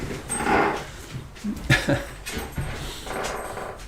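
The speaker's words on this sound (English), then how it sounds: "I would never have believed the dog could be so clumsy and oafish as this black lab." A black Labrador whimpering, snuffling and shifting about indoors, with short whines and soft yips scattered between rustling movement sounds, close and fairly quiet.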